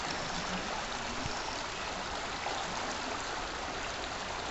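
A stream flowing beside the Buffalo River Trail, a steady broadband rush and trickle of running water, close and continuous without pause.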